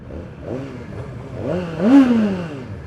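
A Suzuki GSX-R1000R sport motorcycle engine is blipped close by, its revs climbing and dropping in a few quick surges, the last one loudest.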